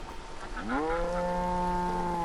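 A single long, close moo from a cow in the village-building video game Banished, rising in pitch and then holding steady over faint background ambience.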